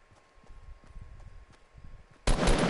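Video game gunfire: faint, spaced shots tick softly at first, then a sudden loud, dense burst of fire erupts near the end.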